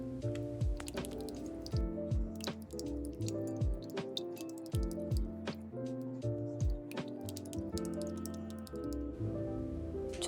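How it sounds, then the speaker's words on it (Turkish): Yogurt and other liquid ingredients being stirred together with a spatula for a soft fluffy dough, giving close, wet squishing and slapping strokes in an irregular rhythm, alone without talk. "Bir spatula ile şöyle güzelce hepsini karıştırıyoruz."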